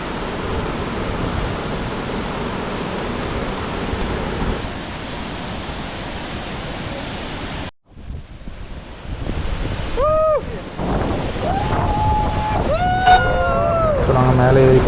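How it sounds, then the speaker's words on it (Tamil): Forceful water roars steadily at 33 Waterfalls in Mankulam, Kerala, a loud broadband rush that briefly drops out, then returns with whistling and chirping sounds over it. "ஸோ தண்ணி ரொம்ப ஃபோர்ஸாக தான் இருந்தது"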